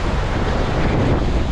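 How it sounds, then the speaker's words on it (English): Ocean surf breaks loudly during a hurricane, a steady, dense roar of crashing waves mixed with strong wind buffeting the microphone. "look at that surf"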